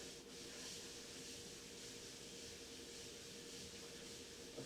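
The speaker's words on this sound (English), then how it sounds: "I do need to use the scrubber, this green abrasive scouring thing, rather than just using a plain sponge" A green abrasive scouring pad scrubs a stain on kitchen linoleum with a continuous close, hissing rub that holds steady throughout, no talking.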